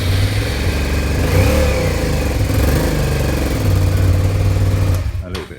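A Suzuki SV650 motorcycle engine runs on choke on a cold morning, a loud close rumble rising and falling with revs before cutting out near the end, with a voice speaking over it.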